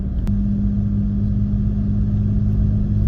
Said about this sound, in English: So right now we're cruising in third gear.